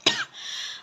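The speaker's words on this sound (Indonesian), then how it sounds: "maaf Bapak, batuk dikit." A single short, sharp cough, close and fairly quiet, followed by a faint lingering hiss.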